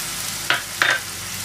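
Onions frying in a pan with coriander powder, giving two brief bursts of stirring and sizzling over a steady low hiss of cooking.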